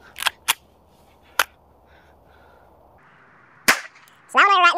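Pistol shots fired at a paper target on a range, a few sharp loud cracks spaced irregularly with background hum between them, ending in a burst of tonal noise.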